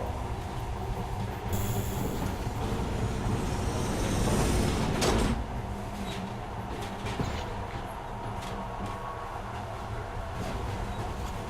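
In the video game Metro Last Light, a subway train rumbles into a station with a heavy, continuous roar. Wheels squeal and brakes hiss loudly near the middle, then the train slows and the noise settles into a steady mechanical drone.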